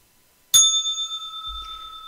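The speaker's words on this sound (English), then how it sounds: "That bell's for you." A single bell is struck once and rings out with a clear, sustained metallic tone that slowly decays, starting after a moment of silence, with a low rumble entering near the end.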